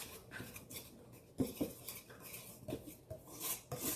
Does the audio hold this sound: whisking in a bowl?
yes